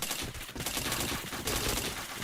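Dense, continuous gunfire from a video game during a rainy multiplayer match, with rapid overlapping shots landing one after another at steady high volume.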